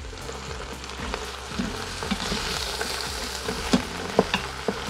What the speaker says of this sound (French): qu'on les saisisse dans l'huile